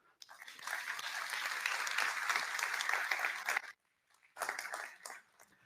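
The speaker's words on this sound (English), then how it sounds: "So a round of applause, please, to thank them." Applause from a conference audience at an opening plenary, a sustained burst of many hands clapping for several seconds, then a short pause and a second shorter burst of clapping.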